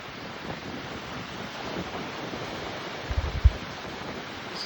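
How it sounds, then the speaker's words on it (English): Strong wind roars across a high, exposed slope on Mt. Whitney, with gusts over 60 mph under blue sky. A steady, loud broadband rush fills the whole clip, with a few heavy buffeting thumps on the microphone near the end. No one speaks. "It is blowing hard."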